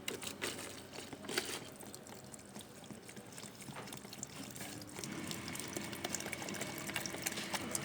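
Water pours into a jar of cut fruit peels being mixed for a homemade bio enzyme, with a faint, continuous trickling splash that runs quietly for several seconds.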